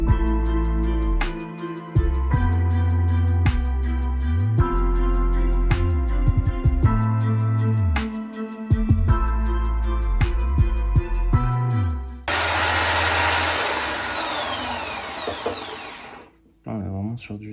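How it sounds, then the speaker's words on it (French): A large drum sander roller driven by a drill runs steadily and loudly, with repeated short stops and restarts, ending in a harsher, noisier stretch. "Donc là, il y a un gros rouleau ponceur."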